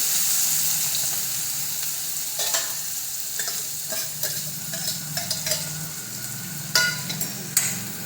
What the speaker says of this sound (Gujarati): એમને ચાલુ રાખશું જ્યાં સુધી આછી લાલ ના થાય ત્યાં સુધી આપણે એને ધીમા તાપે હલાવી રાખવાની